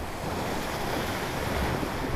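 Ocean surf breaks steadily at a beach shore, a continuous broadband wash with wind buffeting the microphone, moderately loud and unbroken, with no voices.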